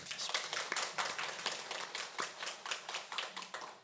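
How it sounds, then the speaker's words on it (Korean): Audience in a church claps steadily in dense, fairly close applause, a continuous patter of many hands without talk, for a few seconds. "우리 박수로 한번 모시겠습니다"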